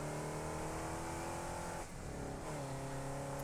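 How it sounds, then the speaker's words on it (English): Engine of a tractor vehicle driving in the Satisfactory factory-building video game, a steady, loud motor drone with a brief dip partway through before it resumes its even hum. "Oh, you can see a tractor coming up here."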